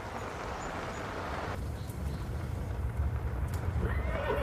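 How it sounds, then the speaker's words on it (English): A horse neighs faintly in the distance at a remote, isolated compound, with steady low background rumble and soft movement sounds that could be hooves. "A horse!"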